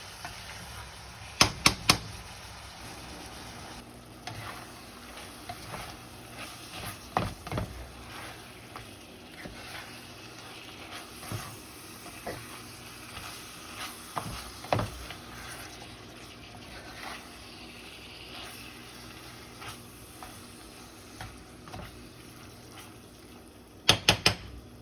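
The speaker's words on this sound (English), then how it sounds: "We're going to cook these potatoes in the fat and the juice, the natural juices of this meat and those spices." Diced potatoes frying in beef fat, meat juices and spices, a low steady sizzle broken by intermittent stirring scrapes and a few sharp knocks against the pan, no voices.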